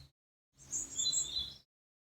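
Birds chirp and tweet outdoors in a short cluster of high, bright calls, fairly faint and distant, with no talking over them.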